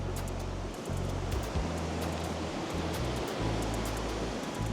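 Ocean surf rolls steadily onto Petitenget beach in Bali on a cloudy morning, a continuous broadband wash of breaking waves with low rumbling swells, heard alone without voices.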